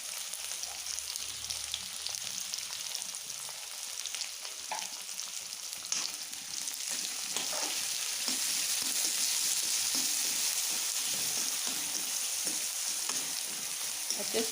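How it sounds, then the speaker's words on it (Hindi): Onion, green chilies and cumin seeds frying in oil in a pan for paneer biryani, a steady dense sizzle with occasional stirring scrapes, fairly close and continuous throughout, growing slightly louder toward the end. "अब इसमें ये प्याज और मिर्ची डाली है मैंने"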